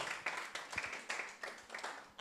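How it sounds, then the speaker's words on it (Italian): Audience clapping at an Italian football-themed show, a short burst of sharp, rhythmic claps with a few quick bursts, moderately close and fairly faint. "Facciamo un applauso alla DM"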